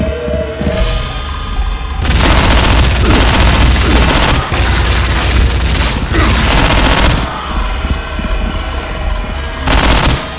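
Gunfire in Soldier of Fortune 2: Double Helix in the streets of Hong Kong: loud, sustained automatic fire with booming impacts, pausing briefly several times before resuming in heavy bursts.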